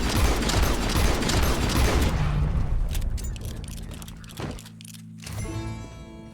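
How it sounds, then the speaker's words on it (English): Gunshots aimed at a lion in Red Dead Redemption 2, a dense volley of loud shots that fades into scattered quieter cracks and ambient game sound. "He shot the thing!"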